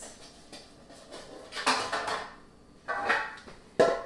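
Metal loaf pans for zucchini bread clank and knock as they are handled, a scatter of soft taps building to several loud, close metallic clatters with no talking.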